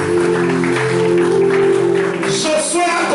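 A congregation applauds during a Sunday church service, with steady, dense clapping throughout and sustained musical tones and some voices beneath it.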